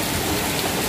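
Hail or heavy rain pelting down in Saudi Arabia, heard from a hotel, a dense steady patter of drops with no pauses, loud and close throughout.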